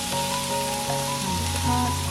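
Shrimp go into a pan of simmering seafood coconut-milk curry, which sizzles and bubbles steadily at close range. Faint clinks and stirring sounds come through, and no one speaks.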